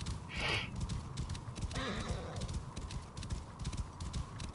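A horse in the video game Assassin's Creed Origins gallops with steady clip-clopping hooves and lets out a neigh, under game ambience and quiet speech.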